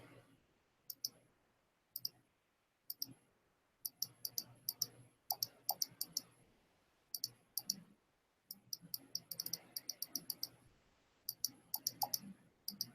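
A computer mouse clicks quietly and repeatedly near the mic in irregular bursts, sometimes quick double clicks, with faint background noise and no talking.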